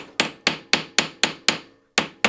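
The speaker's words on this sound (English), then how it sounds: "It's a simple case of riveting it over" A hammer rivets a pin over into a countersink on a Stuart P31 steam engine valve spindle: eight sharp, ringing metal blows in a steady rhythm with a short pause before the last two, close and loud.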